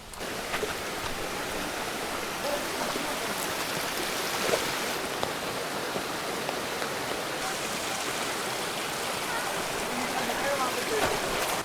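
A forest river stream flows steadily along a trail near Gupt Bhimashankar in Maharashtra, its broad, continuous rushing wash holding the same level throughout without pauses.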